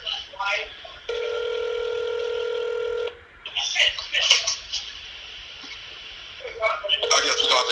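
Rapid touch-tone beeps of a telephone number being dialed, followed by a steady held tone, then a voice speaking over a phone line with more brief tones near the end.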